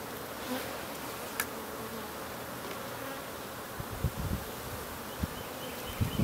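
Honeybees hum around an open beehive, a steady close swarm drone with occasional louder passes of individual bees near the microphone and no talking.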